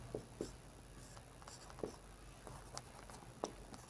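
Pen or chalk writing by hand during a Class 10 math lesson on linear equations in two variables, with short scratchy strokes in irregular bursts over a faint room hum and no talking.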